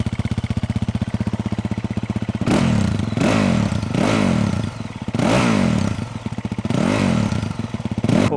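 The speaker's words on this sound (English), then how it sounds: "We're gonna go do a sound check on this stock exhaust" Stock exhaust on a 2024 Yamaha WR450F supermoto, first idling with a rapid thumping pulse, then loud repeated throttle blips that rise and fall in pitch, heard close and alone.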